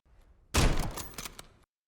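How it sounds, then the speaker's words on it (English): Sniper rifle shot in Call of Duty: one loud, sudden blast followed by a short rolling tail of echo and rattling that fades out within about a second, after a quiet lead-in. "So, same thing, it's the gunshot here"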